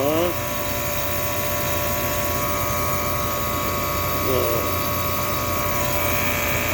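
A steady mechanical hum from a running air conditioner compressor after gas and oil refill, smooth and continuous, with brief faint tonal chirps early and again midway.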